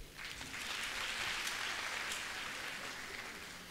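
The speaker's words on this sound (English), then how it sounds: "Let's give Clement and his model a round of applause." A graduation ceremony audience gives a round of applause, a steady wash of clapping heard faintly and at a distance, unbroken for a few seconds.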